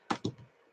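Two or three quick, faint key taps sound on a computer keyboard, closely spaced and close by, alone in a quiet room.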